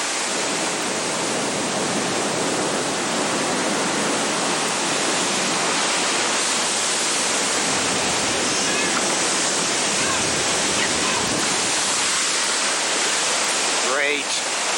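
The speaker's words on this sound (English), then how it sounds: "When it hits land, this mound of water rushes ashore. That's what you call storm surge." Cyclone storm surge with seawater rushing ashore: a dense, continuous roar of churning water and wind, loud and close, holding steady throughout.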